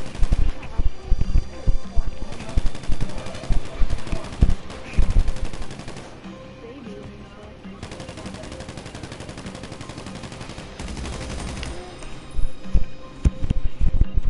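Rapid bursts of automatic gunfire from a newly acquired gun in a video game, loud and close. Dense volleys come early and again near the end, with a quieter stretch in between.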